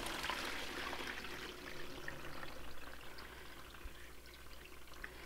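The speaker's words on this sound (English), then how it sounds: "we're going to rinse that water off of them" Water pours and splashes over rehydrated soy curls as they are rinsed, making a continuous trickling, splashing stream at moderate to faint level with slight ups and downs, and no voices.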